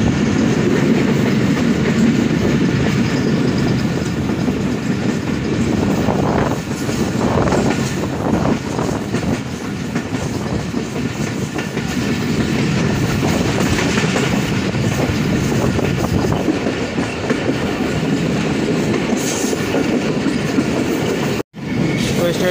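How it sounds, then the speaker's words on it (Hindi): A Rahman Baba Express passenger train runs through near a station on the line to Karachi, heard as a loud steady rumble of wheels on track with faint rhythmic clatter, close and continuous. "स्टेशन आ रहा है और थ्रू पास करेगी यहाँ से 48 डाउन रहमान बाबा एक्सप्रेस"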